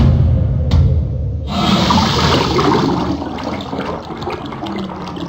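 Water drains inside a video game, a loud, close gushing rush like a toilet flush. It starts after a short quiet gap and gurgles on steadily, slowly thinning toward the end.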